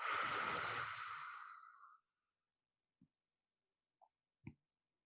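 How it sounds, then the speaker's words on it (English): A single deep breath is exhaled through the mouth, like blowing out smoke, giving a long airy rush that fades over about two seconds. A few faint small clicks follow in near silence. "exhale it out like you're blowing out smoke"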